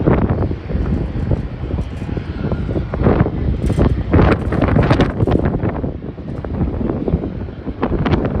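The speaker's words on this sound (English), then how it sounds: "So flight from Sydney just landed." A passenger airplane arriving at Melbourne Airport on a flight from Sydney, a loud rumbling roar heard from outside, buffeted by gusty wind noise on the microphone, steady and continuous throughout.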